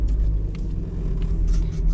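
Engine of a 1991 Nissan Silvia S13 while driving, heard as a continuous low rumble from inside the car with faint road noise, steady and unbroken.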